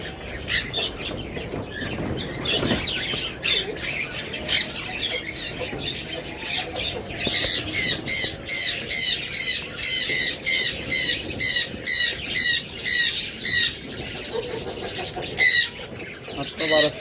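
Pet lovebirds, cockatiels and budgerigars kept for sale squawk and chirp in a dense, lively chorus, with rapid repeated calls growing busier, close by, while a person talks over them.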